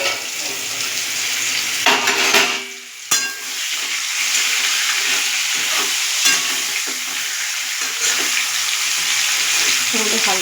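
Potatoes and fish fry in a pan with a steady, loud hiss of hot oil, and a few brief knocks and clatters break through the close-up sizzle.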